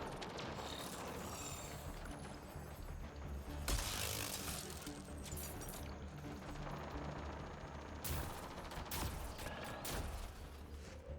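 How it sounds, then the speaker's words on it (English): Heavy weapons fire in the Mass Effect Andromeda video game: dense, continuous mechanical clatter and rattling shots with sharper bursts that stand out, sustained throughout with no talk. "Pathfinder, I detect heavy weapons fire nearby."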